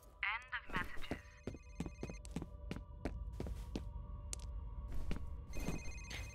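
A telephone rings in the video game F.E.A.R., its repeated electronic trills sounding at moderate volume among scattered sharp clicks and impacts, with a low hum underneath.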